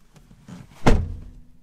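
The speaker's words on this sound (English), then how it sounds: "when you close the door" A Toyota MR2 Spyder door shuts from inside the car with the OEM hardtop fitted, one solid close thunk after a brief rustle, then a short muffled fade.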